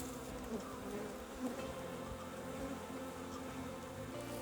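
Honey bees buzzing around an open hive as its frames are inspected for winter honey stores, a steady dense drone of many insects close by, continuous and even throughout.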